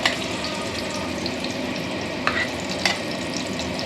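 Butter, an Amul cube, sizzles steadily in a hot pan with chicken kabab and Kashmiri chilli, a dense continuous frying hiss with a couple of sharp crackles.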